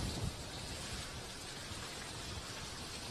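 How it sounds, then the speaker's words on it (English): Heavy rain from Hurricane Irma pours down steadily in a dense, continuous hiss with a low rumble underneath, loud and close throughout. "now it seems like it's a real downpour."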